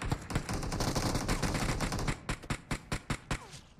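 Rapid automatic gunfire rattles in the mobile battle royale game PUBG Mobile, a dense burst of shots that thins into evenly spaced single reports near the end, loud and close.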